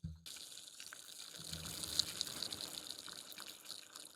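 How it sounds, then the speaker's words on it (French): Fizzing bubbles of Ciao Energy kiwi cucumber carbonated drink heard up close: a soft, steady crackling hiss of popping bubbles that rises slightly and continues without a break, with no talk. "On va écouter les bulles maintenant."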